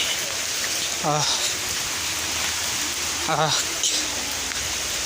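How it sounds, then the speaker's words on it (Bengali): Steady heavy rain hisses loudly and evenly throughout, with brief bird-like chirps cutting through twice. "কী পরিমাণ বৃষ্টি পড়তে আছে"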